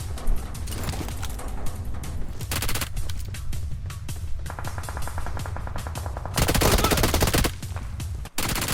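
Loud, continuous gunfire in the battle royale game PUBG Mobile: sustained automatic bursts and rapid shots packed closely together, breaking off briefly near the end.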